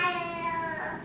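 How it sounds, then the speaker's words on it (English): An infant cries steadily in a high, wailing tone, sustained and fairly close, with no other voices. "That's the sound of a baby in the background because I had a baby."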